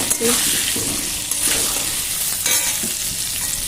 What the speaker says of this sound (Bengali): তো এই যে সামান্য পরিমাণে একটু নুন আর হলুদ এই দিয়ে কিন্তু আলুটাকে বেশ লাল করে আমি ভেজে দিচ্ছি।